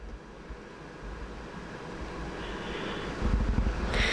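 Steady broadband rush of air from a ventilation vent in a radio broadcast studio, a constant close hiss with low rumble that swells slightly louder toward the end, no voices.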